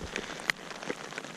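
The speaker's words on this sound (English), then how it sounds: "Cold rain on the Isle of Skye" Cold rain on the Isle of Skye patters faintly on a wild-camping tent, a soft, irregular scatter of drops with a few sharper taps.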